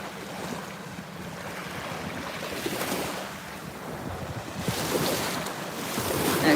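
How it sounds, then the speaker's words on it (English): Ocean waves at a beach in Fort Lauderdale, a steady broad wash of surf with rolling swells and gusty wind buffeting the microphone, building louder toward the end, with no talk. "So look at these waves."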